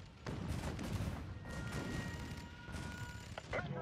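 Turrets firing in the video game Spore, a dense rumbling barrage of repeated blasts with brief tonal whines over it, steady and fairly loud.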